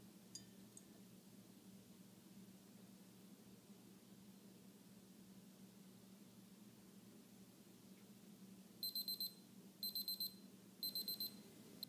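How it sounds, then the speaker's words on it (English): Electronic alarm of a Sper Scientific model 800041R thermometer hygrometer: three short bursts of rapid high-pitched beeping near the end, after a long stretch of low steady hum. "an audible alarm will sound."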